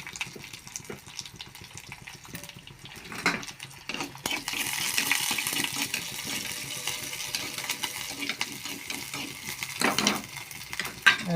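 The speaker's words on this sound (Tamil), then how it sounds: "கடுகு நல்லா பொரிஞ்சு வந்துட்டு இப்போ 4 சின்ன வெங்காயத்தை" Cut shallots hit a pan of spluttering mustard seeds, and a sudden loud, hissing sizzle swells and keeps going, with utensil clinks and a little talk in the background.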